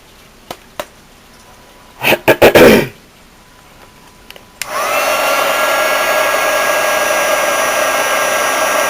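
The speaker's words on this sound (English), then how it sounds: "I'm going to take my heat gun." A heat gun switches on after a few brief clatters and taps, then blows as a steady, close, loud whoosh over raw polymer clay, running without a break to the end.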